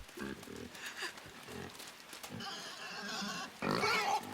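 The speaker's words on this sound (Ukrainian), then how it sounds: "Ой-ой-ой, поросятко прокинулося." A pig in the game Inside wakes and grunts in several short snorting bursts at moderate distance, with shuffling and scraping movement sounds between them.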